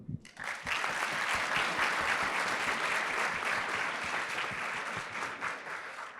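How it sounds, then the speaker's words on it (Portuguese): An audience at a finance panel event applauds the speakers, with steady, full clapping that begins abruptly and continues throughout without talk. "Eu gostaria, então, de pedir uma salva de palmas a todos aqui que estão aqui, por favor."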